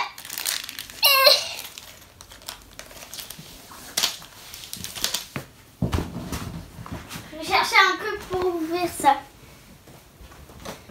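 A Playmobil Air France flight attendant toy package (set 9151) being opened, with crinkling plastic and cardboard rustles in short bursts, while someone talks and babbles between the sounds.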